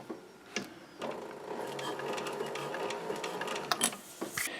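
A sewing machine stitches a newsboy cap, running steadily toward a corner, pausing to turn the fabric, then stitching on, with a few sharp clicks and handling noises near the end.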